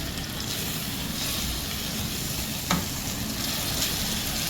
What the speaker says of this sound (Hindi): इसे अराउंड 1 से 2 मिनट तक के लिए मसालों को इसमें हम भून लेते हैं